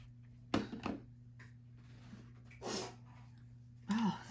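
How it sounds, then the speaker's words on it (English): A single sharp sneeze bursts out near the start, followed by a couple of quieter breathy sounds and another short burst near the end, over a low steady hum. "I just had a giant sneeze"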